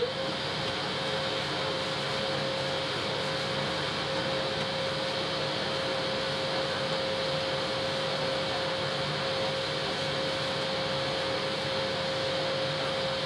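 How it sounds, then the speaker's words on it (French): A vacuum cleaner runs continuously while a room is vacuumed during interior painting prep, a steady loud motor drone with a fixed whine and no breaks, nobody talking. "moi je commence à aspirer"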